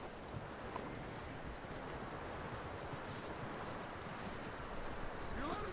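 Horse hooves clip-clop steadily on the ground in Red Dead Redemption 2, a continuous rhythmic trot under dense ambient game noise, fairly faint.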